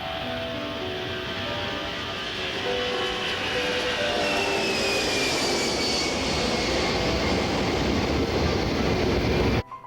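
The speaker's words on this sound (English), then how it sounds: "And they start the takeoff roll." Boeing 747 jet airliner starting its takeoff roll, a loud steady roar with rising whine that builds continuously and then cuts off abruptly.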